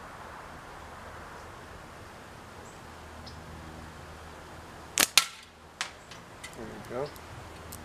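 A slingshot shot strikes the bottom of a can outdoors, making a sharp snap and crack partway through, followed by a few fainter clicks over a quiet hiss background. A short spoken remark is also heard.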